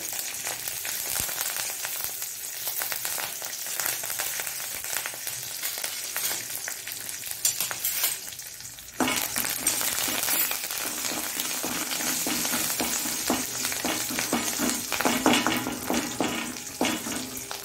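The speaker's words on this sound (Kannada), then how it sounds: "ಈಗ ಕರಿಬೇವಿನ ಸೊಪ್ಪು ಸಹ ಹಾಗೆ ಒಂದು 2-3 ದಂಟಿನಷ್ಟು ಹಾಕೊಳ್ಳಿ" Curry leaves, a couple of sprigs, crackle and sizzle in hot oil in a pan, a steady close frying hiss that grows louder and fuller partway through, with no voices.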